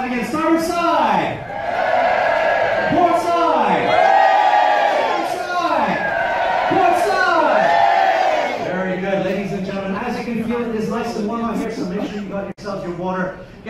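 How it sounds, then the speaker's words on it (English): Passengers on the starboard side of the QM2 cheering at an equator-crossing deck party, a long loud wave of whoops and shouts that swells, then thins into scattered voices. "Everyone here from down the middle to the starboard side, give me a nice big cheer"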